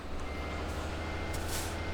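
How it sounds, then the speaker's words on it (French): Reversing beeps ring out from a truck in a driving video game, over the steady drone of its engine held at high revs rather than idling, with a brief air-brake hiss near the end. "je suis en marche arrière là et le moteur tourne assez haut, il tourne pas au ralenti"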